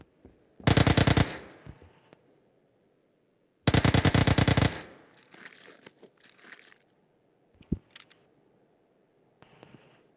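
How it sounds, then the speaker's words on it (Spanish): Two loud bursts of rapid automatic gunfire, each about half a second, followed by quieter clicks and scattered small impacts. "Me devolvió unos balazos"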